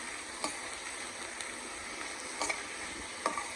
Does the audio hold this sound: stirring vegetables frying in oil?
yes